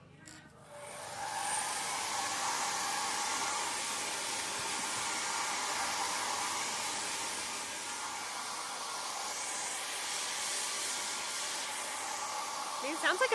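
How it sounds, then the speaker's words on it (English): An electric hair dryer blows continuously for over ten seconds, a steady loud airy whoosh with a high whine, switching on at the start and running alone. "A hair dryer."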